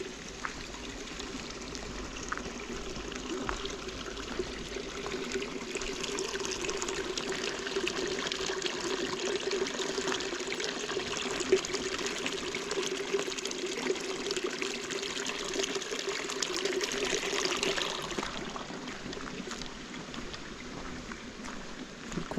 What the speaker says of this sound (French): Le cours d'eau continue comme ça dans la forêt.